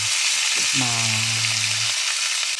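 Beef strips sautéing in a pan, a steady loud sizzle and crackle throughout, with a brief low hum rising and holding underneath before the frying continues alone.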